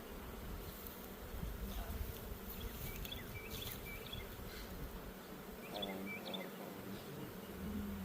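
Honey bees buzzing steadily around an apiary during a beekeeping field day, a dense, close insect drone that runs continuously throughout, with faint bird chirps in the background.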